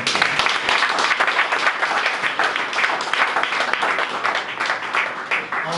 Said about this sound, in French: Nous acclamons le Seigneur.